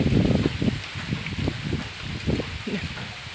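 Rain falls in a forest, a steady soft hiss of drops on leaves with irregular low rustles and thumps nearby, heard alone without talk.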